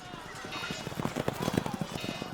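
Horses gallop in a medieval cavalry charge through infantry, a quick run of hoofbeats under a continuous speaking voice, with busy battle noise behind them.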